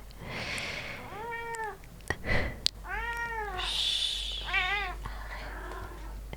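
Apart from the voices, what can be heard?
cat meowing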